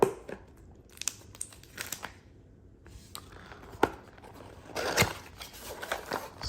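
Cardboard and plastic packaging of a Redtiger F7N mini dual dash cam box being opened up close, with scattered crinkles, rustles and sharp tearing snaps, a louder burst of crumpling near the end.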